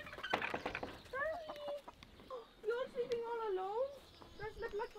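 Hens cluck and make rising, warbling calls close by, with scuffling noises at the start; no clear talking.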